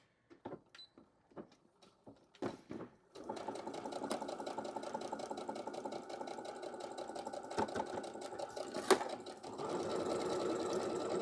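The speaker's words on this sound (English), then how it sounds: "you're good to just go ahead and sew right across the top and the bottom" A sewing machine stitches across a pillowcase made from fabric swatches: a few handling knocks, then a steady close whirring run with a brief pause and a faster burst at the end.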